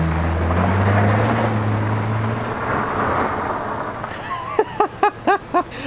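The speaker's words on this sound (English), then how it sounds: "My brother revving up his car." A six-cylinder car engine revving, a deep, loud rumble that rises in the first couple of seconds and then fades under broad noise, followed by a few short, sharp pulses.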